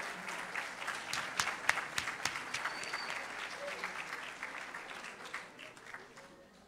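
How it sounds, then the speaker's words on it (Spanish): An audience at a school event in La Matanza applauds to welcome a secondary school group, lively clapping with sharp claps up front that gradually thins and fades. "los recibimos con un muy fuerte aplauso"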